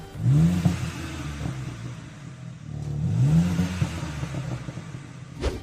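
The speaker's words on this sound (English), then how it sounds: "you've got a switchable exhaust system which you can make louder" A BMW M4 CSL with a switchable titanium exhaust revs twice in rising, throaty surges with a loud exhaust growl, each swell climbing then dropping back, ending with a sharp pop.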